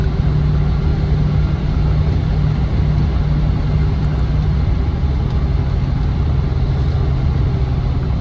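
A Land Rover Defender 90 50th Anniversary engine drones steadily while driving, a low, even cabin rumble with road noise that holds constant throughout, no talk.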